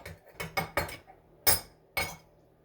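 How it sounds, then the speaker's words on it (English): A spoon stirring a small dish of sauce with sesame seeds and chili flakes, giving five or six sharp, close clinks against the bowl in an uneven rhythm, with no talking. "Stir this up."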